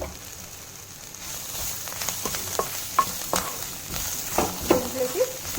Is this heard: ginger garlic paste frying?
yes